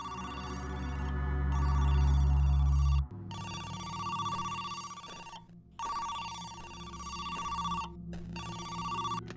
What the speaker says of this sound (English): Afterwards, you receive a strange phone call.